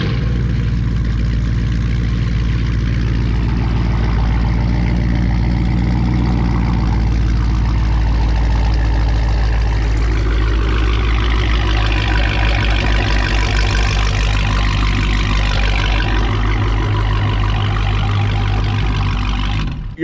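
Dodge Hellcat Charger or Challenger with a Corsa catback exhaust idles up close, a steady deep rumble with a low drone that holds throughout, loud and alone with no talk.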